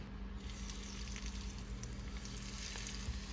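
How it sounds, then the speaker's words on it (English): Vegan chick'n pieces crackle and sizzle continuously in a generous amount of hot oil, a steady, fairly quiet frying hiss with small scattered pops and no talking. "Our oil is hot. I'm not really trying to deep fry, but I put quite a good amount of oil in there."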